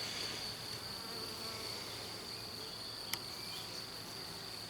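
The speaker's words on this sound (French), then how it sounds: "Bon, il y a des abeilles." Honeybees around an apiary hive make a faint, steady, calm buzz that hums continuously in the background, with a single brief click partway through and no voices.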